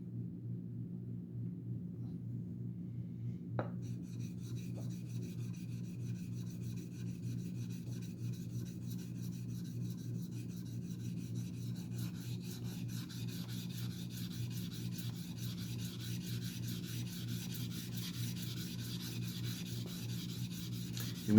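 Sandpaper rubs steadily back and forth across a titanium knife scale, a continuous close rasping scrape with even texture, a faint click early on, no talking.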